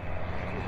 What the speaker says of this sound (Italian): il pilota sta comunque facendo qualche giro per farci vedere cosa avremmo fatto